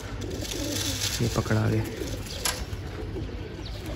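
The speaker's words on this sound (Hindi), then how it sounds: "ये टैडी कबूतर चेक करें, टैडी कबूतर ये वाला" Low, soft pigeon coos repeat in a short burst beneath someone talking, with background chatter and outdoor noise throughout.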